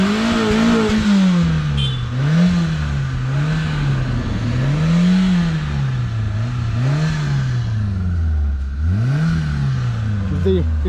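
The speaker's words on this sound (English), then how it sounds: "Now start a vehicle." A 20-year-old Hyundai Santro GS Zip Drive idles close by, its engine rising and falling in repeated revs, while someone talks over the sound.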